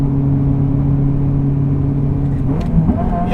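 A Ferrari F355 GTS with a manual gearbox drones loud and steady, its engine note holding even before it dips and shifts near the end as the revs drop on a downshift, with no talk.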